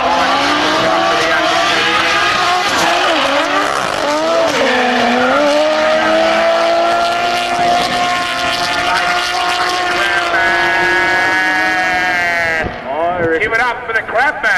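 Drift cars at the 2012 World Time Attack Challenge squeal their tyres in a long, wavering, high-pitched howl over engine roar while clutch-kicking through a smoky transition. A commentator talks over the loud, continuous noise until it fades near the end.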